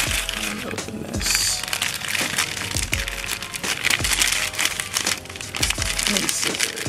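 Crinkly plastic and paper crumpling and tearing in bursts as a package of body care products is opened, close up, with occasional soft thumps of handling.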